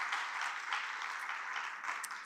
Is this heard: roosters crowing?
no